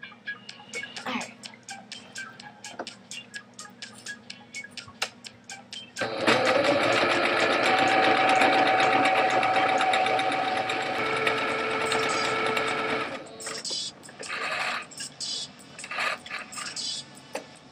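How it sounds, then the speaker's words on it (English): A sewing machine stitches an old bag into a purse, starting after a few soft clicks and whirring steadily for several seconds, then running in shorter bursts, close and clear. "So without further ado, I'm going to sew."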